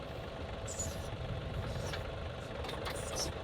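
Tractor engine idling steadily at low volume, a constant low rumble with faint higher noises on top and no clear change in pace.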